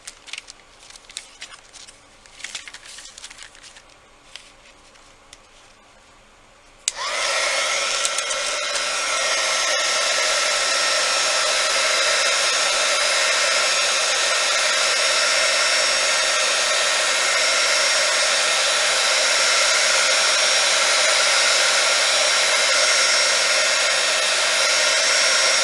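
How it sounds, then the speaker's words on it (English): A heat gun heats polymer clay until it wrinkles. After about seven seconds of light handling clicks and rustles, it switches on with a loud, steady blowing roar that continues unbroken close by for the rest of the clip. "Heat gun. So cover your ears. I'm gonna heat it to wrinkling."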